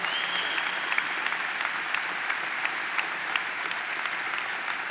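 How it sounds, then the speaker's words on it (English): A crowd at the opening of a new expo center at the Great New York State Fair applauds, a steady wash of clapping with distinct individual claps popping out for about five seconds. "let's give him a big round of applause"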